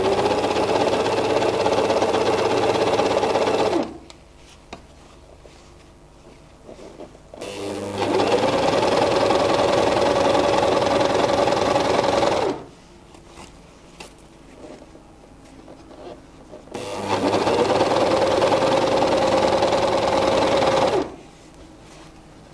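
A Gritzner 788 overlock sewing machine stitching fabric runs in steady bursts, a loud, even mechanical whir lasting several seconds each, separated by quiet pauses.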